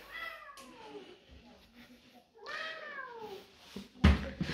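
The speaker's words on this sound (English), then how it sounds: "and we found our cat." A cat gives two drawn-out meows with falling pitch, a pause between them, followed by a sharp clatter near the end.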